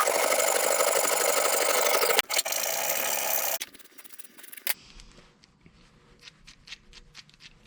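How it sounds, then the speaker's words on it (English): Two 3/8-inch bolts being cut off with a saw on a TW200 pack rack install: loud, steady rasping strokes for a few seconds, a short break, another burst, then fading scrapes and light clinks. "we're just going to cut off a couple of bolts to get the threads off of them"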